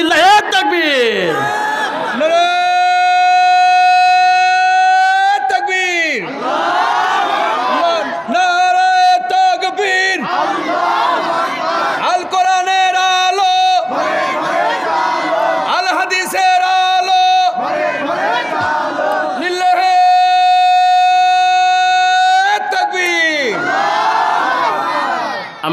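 A large crowd at an Islamic gathering, a mahfil in Pabna, shouts the takbir in loud, repeated unison chants. A preacher's amplified voice alternates with the crowd's roaring responses in a steady call-and-response rhythm.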